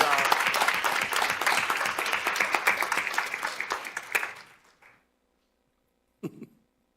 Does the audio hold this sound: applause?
yes